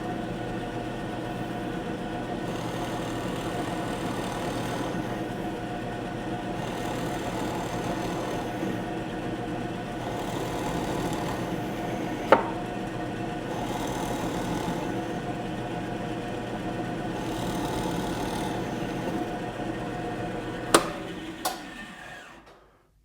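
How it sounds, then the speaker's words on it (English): Drill press boring holes with a 3/8 inch Forstner bit, a continuous steady whir and hum with faint periodic surges as each hole is cut, followed by a few sharp clicks near the end. "I made 5 holes using this 3/8 inch Forstner bit"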